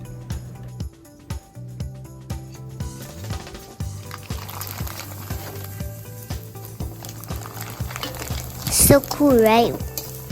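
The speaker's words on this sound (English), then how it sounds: "if you want to test whether the oil is hot, you just put a strand of mi hoon in there" A single strand of mi hoon rice vermicelli dropped into hot oil to test the heat, giving a brief burst of crackling sizzle near the end after a stretch of quieter kitchen noise and background music, with a short spoken remark.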